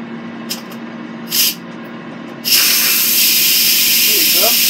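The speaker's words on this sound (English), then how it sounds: "I want the steam going on the cabinet." An Instant Pot releases its pressure with a loud, steady hiss of steam that starts abruptly after a couple of short clicks and keeps going, close by, with a faint voice underneath.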